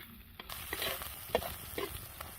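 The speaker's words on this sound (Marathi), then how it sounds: "तेलात का नाही चटा चटा चटा मसाला भाजून घेतला" Ground spice masala sizzling and roasting in hot oil for a village-style zunka with soaked lentil paste, a steady crackle with scattered stirring scrapes, close and moderately loud, no talking.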